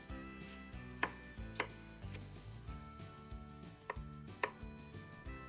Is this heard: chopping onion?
yes